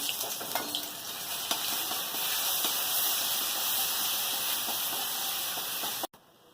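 Garlic paste hits hot oil tempered with nigella seeds and sugar, producing a loud, continuous hissing sizzle up close with occasional stirring knocks, cutting off abruptly near the end.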